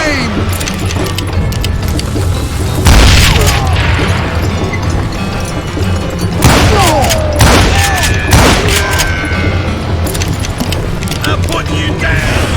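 Dynamite explosions in the Wild West shooter Call of Juarez Gunslinger, several heavy booms spaced across a busy mix of gunfire, clanks and game noise, loud and close.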